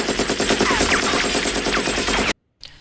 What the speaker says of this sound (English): All it has as its gun is a single M2A2 heavy machine gun, a 50 cal, essentially.